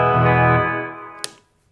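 Electric guitar played through a BB preamp pedal into a Blackstar portable amp: a single driven chord rings out and slowly fades, then a brief string noise or pick click sounds near the end.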